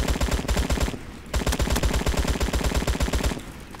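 Steady rhythmic gunshots from a Roblox game, a fast regular stream of loud shots with a brief pause near the one-second mark before the firing resumes and continues to the end.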